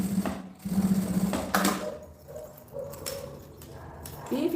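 A sewing machine stitches a seam on a small multipurpose zipper organizer bag, running in short bursts of rapid whirring with pauses between, close and moderately loud, with faint background sounds.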